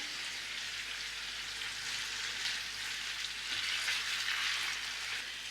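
Mutton frying with onion paste and tomato puree for kosha mangsho, a steady, even hiss of sizzling oil throughout, close and uninterrupted.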